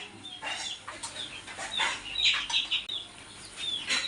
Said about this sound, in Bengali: তিথির মুরগি আনছি আমরা।